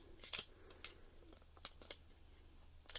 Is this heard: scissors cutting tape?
yes